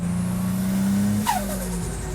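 A classic Datsun 240Z fitted with a GT-R RB engine hums steadily nearby, then revs briefly with a rising whine as it drives past, no one speaking.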